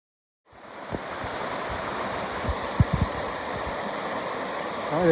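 A waterfall on Mount Moosilauke roars in as a steady, loud broadband rush of falling water, heard up close with a few soft thumps underneath and no voices.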